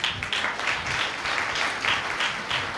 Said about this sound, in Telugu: క్లాప్స్ కొడాలి గట్టిగా